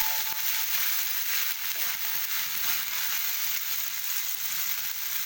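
Coriander pickle fries and sizzles in a pan while being stirred, a dense, steady close crackle throughout with no speech.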